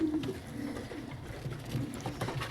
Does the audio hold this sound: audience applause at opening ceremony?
no